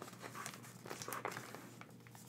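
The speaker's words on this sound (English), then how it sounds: "So we're going to fold this wing up." Paper crinkles softly and close up as the wing of an origami dove is folded, with light crackling and rustling running throughout, quiet and with no talk.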